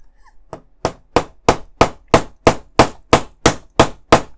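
A hammer taps pins into a 1:16 scale Leopard 2A6 tank model in a steady rhythm, about a dozen sharp metallic strikes evenly spaced, close and loud, with no voices.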